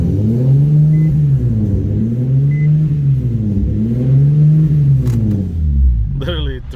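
An Infiniti G35 with a 6-speed gearbox idles high at about 3000 RPM, a loud, steady engine drone with a slow, rhythmic wavering in pitch. A brief clatter and shift in tone come near the end.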